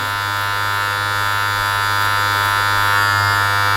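Cheap Chinese hair clippers trim a beard with a steady, close electric buzz that holds an even pitch for a few seconds and has no talking over it.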